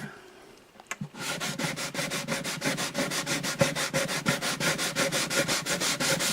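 Steady back-and-forth sanding by hand with sandpaper on a guitar's wooden bridge with a dot inlay, an Alvarez Artist AD65, close and rhythmic, continuing evenly after a brief knock at the start.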